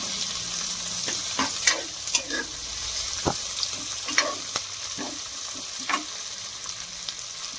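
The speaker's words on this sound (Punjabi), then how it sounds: "ਪਿਆਜ਼ ਨੂੰ ਹੁਣ ਬਰਾਊਨ ਕਰ ਲੈਣਾ" Onions fry and brown in a pan for a Punjabi-style spinach and chickpea dal. A constant close sizzle is broken by scattered clicks and scrapes from stirring.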